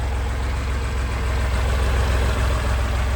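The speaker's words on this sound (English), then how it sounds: "Excellent, excellent smooth running engine." A 1964 Chevy Corvair Monza convertible engine idles smoothly and steadily, a close, even low rumble with a regular pulsing beat and no voices.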